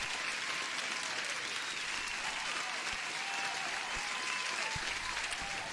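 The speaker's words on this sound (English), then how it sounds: "huge applause for everyone for being here and joining the stream" Canned applause effect played over a live futures trading stream, a steady dense wash of clapping and crowd noise at even loudness throughout, with no voices over it.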